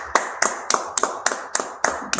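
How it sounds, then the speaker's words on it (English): Sharp, evenly spaced claps ring out about every quarter second at a Wednesday night biblical law class, a steady rhythmic beat from hands close by. "Let's clap it up"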